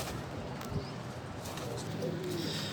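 Teddy pigeons kept by a breeder coo softly in a flock, faint under a dense hiss of background noise.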